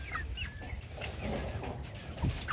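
A sick chick in a flock of vaccinated hens gives faint, high, thin cheeps over a busy background of farmyard clucking and noise.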